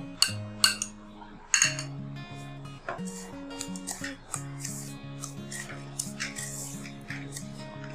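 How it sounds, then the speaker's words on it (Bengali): A spoon scrapes and clinks against a bowl while melted butter is mixed into crushed biscuit, a run of irregular metallic taps and scrapes up close, with a ringing tone underneath. "বাটারের সাথে বিস্কুটের গুঁড়োটা ভালোভাবে আমি মিশিয়ে নিচ্ছি।"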